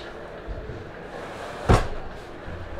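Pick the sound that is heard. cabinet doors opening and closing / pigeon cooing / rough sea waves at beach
cabinet doors opening and closing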